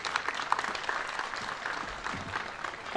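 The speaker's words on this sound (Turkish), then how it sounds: "Alkışlayalım mı?" A crowd at a branch opening ceremony in Edirne breaks into steady applause, moderately loud and continuous, with a few sharper claps standing out near the end.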